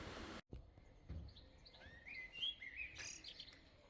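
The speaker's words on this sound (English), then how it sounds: "And the birds keep singing." Birds chirp and tweet in a quiet outdoor setting, several short, clear calls overlapping over a few seconds after a brief burst of noise at the start.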